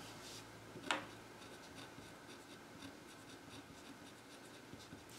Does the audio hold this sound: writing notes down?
yes